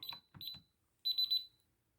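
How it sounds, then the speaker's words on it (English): A home alarm keypad gives short electronic beeps after a code is entered, two quick close chirps followed by a longer rapid triple beep, alone in a quiet room. "it has this beep, you wait, you can press pound and then enter the right code."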